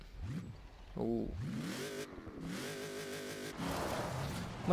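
A Ford Mustang Fastback with tiny exhaust pipes in the video game Forza Horizon 4 revs its engine. Rising and falling pitch sweeps come in short, separate bursts and then settle into a steadier drone.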